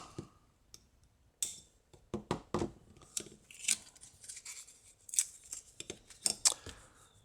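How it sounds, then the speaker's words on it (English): Cutters snip the soldered component leads on a Ghost 1.0 electronics kit, making a series of sharp, close clicks at irregular intervals. The snips are fairly quiet, and there is no talking. "And then we can trim those leads."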